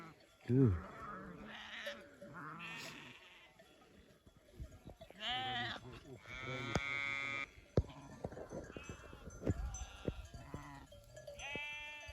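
Several sheep bleat at intervals, some near and some farther off, amid faint background noise and occasional voices.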